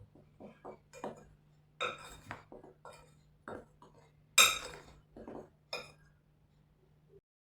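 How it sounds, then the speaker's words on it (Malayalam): Flour, rice flour, sugar, baking soda and spices being stirred together in a bowl for banana fritter batter, heard as scattered clinks and scrapes of a utensil against the bowl, with quiet gaps between strokes. "ഇതെല്ലാം കൂടെ ഒന്ന് മിക്സ് ചെയ്യും"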